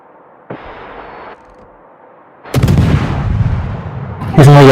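Naval guns booming in a World of Warships clan battle, one short blast followed by a loud sustained roar of heavy firing, ending in a sharp burst.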